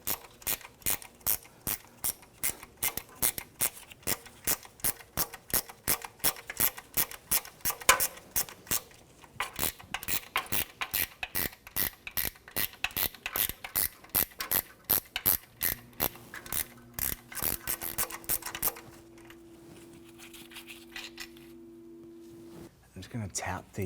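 A ratchet loosens the starter bolt on a 2005-2021 Nissan Frontier 4.0L V6, its sharp clicks repeating in a steady, close rhythm for most of the stretch before stopping near the end, with brief talk at the close.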